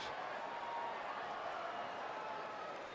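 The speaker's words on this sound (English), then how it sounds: "Crowd enjoying the proceedings." A baseball stadium crowd hums as a broad, steady murmur of many voices, distant and even across the whole moment without any distinct cheer or burst of applause.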